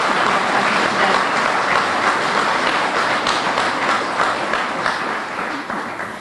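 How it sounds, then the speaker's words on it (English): Loud, sustained audience applause at a ceremony for the grand re-opening of a veterans memorial building, dense clapping filling all six seconds and tapering slightly at the end. "if you would all give them a round of applause and show your appreciation for their presence today"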